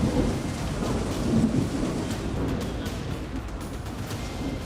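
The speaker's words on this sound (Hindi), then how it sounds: "चेन्नई में चक्रवात आने से पहले तूफानी बारिश।" A heavy thunderstorm lashes Chennai ahead of a cyclone: dense, loud rain roars steadily while deep rumbling thunder rolls underneath throughout.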